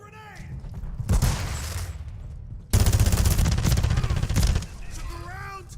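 Sustained rapid gunfire in a video game battle, two loud bursts of automatic fire with a short lull between them, crackling close and dense, with faint radio chatter and whistling effects at the start and end.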